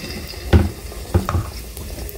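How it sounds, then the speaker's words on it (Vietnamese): Pieces of battered jackfruit and banana drop into hot cooking oil, setting off a few sudden loud sizzling bursts over a steady background hiss. "Thì mình nhúng chuẩn bị mình chiên nha."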